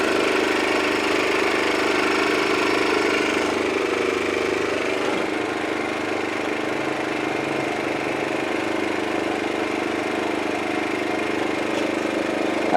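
A Champion 1850-watt portable generator runs steadily just after its first pull start, a loud, constant mid-range engine drone with no talk over it.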